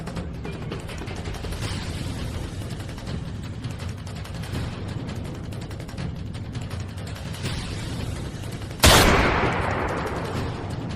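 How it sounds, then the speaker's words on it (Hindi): A single sharp, loud gunshot cracks out near the end, its echo decaying over a steady background of rumbling noise. "अभी तो ये गोली मैंने तेरे हाथ पर चलाई है"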